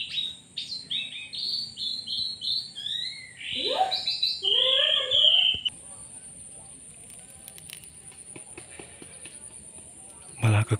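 An oriental magpie-robin loose from its cage calls near and loud, a run of varied whistled phrases and rising, warbling notes over the first six seconds, then quieter background insects and light rustling.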